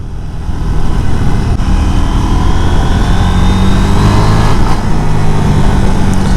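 A twin-cylinder motorcycle engine runs loud and close, a steady throbbing rumble that swells slightly as it revs, with no voices.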